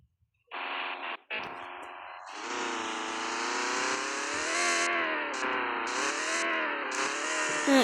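A video-game car's engine revs hard, starting with two short bursts and then holding a sustained, buzzing, distorted engine tone that rises and falls as it accelerates, with no one talking.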